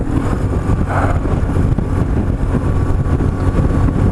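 A BMW R1150GS motorcycle cruising on the highway, its engine a steady broadband rumble mixed with heavy wind buffeting across the microphone for the whole stretch, with no pauses or talk.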